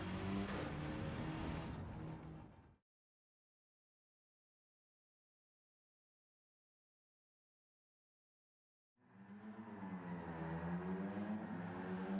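A Ford Escort RS Cosworth '92 with an engine swap drifting in Gran Turismo 7, engine roaring and revving, then cutting to several seconds of silence before the engine returns.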